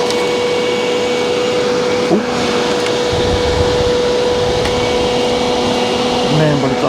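A loud, steady whooshing roar from an air conditioner running inside a truck camper during a heatwave, close and constant with a faint tonal hum throughout and a brief shuffle midway.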